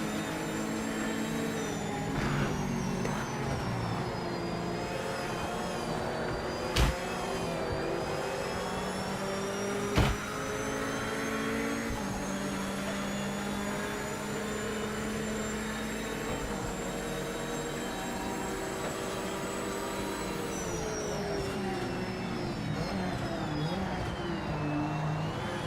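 GT3 race cars in the Project Motor Racing video game, engines droning loudly and continuously as the pitch rises and falls through gear changes, with a couple of sharp clicks and no talking.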